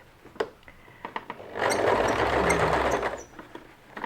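A sewing machine stitching a denim jeans hem runs in one steady, close burst of about a second and a half, framed by quiet clicks of handling before and after.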